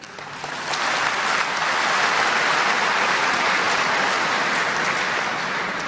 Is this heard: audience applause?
yes